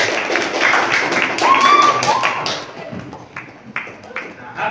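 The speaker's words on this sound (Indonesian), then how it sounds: "Tepuk tangan untuk juga Farah." Audience clapping at a school teacher's workshop session, a scattered burst of hand claps mixed with voices and chatter, moderately close and fading toward the end.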